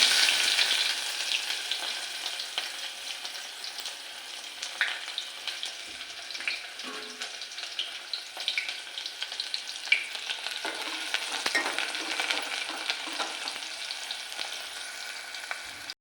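Onions frying in oil with curry leaves, mustard seeds and cumin, a bright crackling sizzle that is loudest at the start and then holds steady throughout, with scattered pops and no voices.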